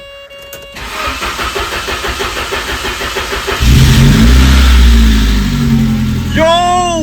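Saab 900 Turbo cranks with a rapid rhythmic starter whir for a few seconds, then catches and fires into a loud, rough idle that holds steady close by.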